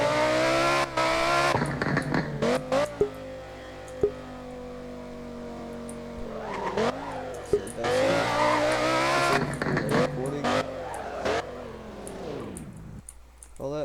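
A revamped Lamborghini Huracan STO in the Driving Empire video game revs hard through shifting gears, its engine rising and dropping repeatedly with tire squeals and skids, loud and continuous throughout.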